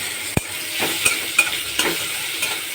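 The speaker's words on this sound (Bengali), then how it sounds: "লাল লাল করে পেঁয়াজটাকে ভেজে নেব" Onions frying in hot oil with bay leaf, cloves, cardamom and cinnamon for egg pulao, a close crackling sizzle broken by several sharp scrapes and knocks of a spatula stirring the pan, no voices.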